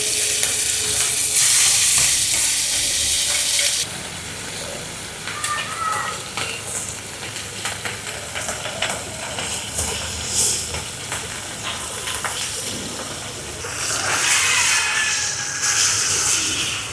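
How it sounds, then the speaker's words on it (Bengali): Bata fish frying in hot oil in a pan, a close, steady sizzle and crackle with scattered spits and occasional stirring scrapes throughout. "এখন মাছ ভেজে নিব।"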